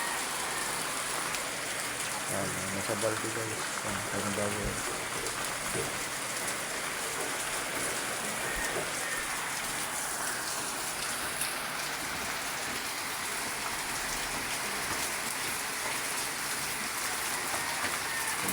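Steady rain falls outside a house and drips inside through a leaking roof, a constant dense hiss with a brief clatter of passing sound early on.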